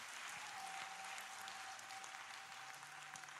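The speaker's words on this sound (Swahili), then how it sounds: "Pige Yesu makofi mengi." A congregation at a prayer vigil claps for Jesus in sustained, even applause. The sound is quiet and somewhat distant but fills the whole stretch without pause.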